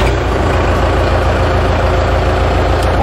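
The engine of a New Holland T4.95 N tractor idles with a loud, steady, low rumble close by, unbroken throughout with no other sounds.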